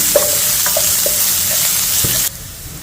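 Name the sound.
onion frying in pan for pepper chicken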